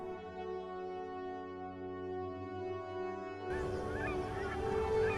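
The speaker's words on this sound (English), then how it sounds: "Aleutian cackling geese have white chin straps like their larger cousin, the Canada goose." Aleutian cackling geese honk in a scattered burst of calls heard at a moderate distance, entering partway through over a sustained musical drone.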